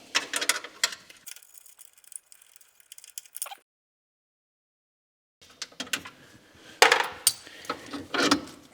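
A wrench working a 10 mm bolt and nut loose on a Nissan Skyline R33, with scattered metallic clinks and ratcheting taps, a few seconds of silence, then louder clanks and handling noises, close and without speech.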